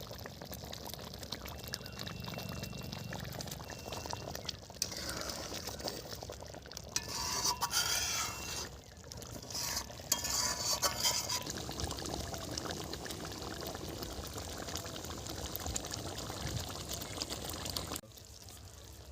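Egg korma is stirred in a pan after ghee is added, giving a soft, continuous scraping and sizzling close by, with a few brighter clinks of the spoon against the pan.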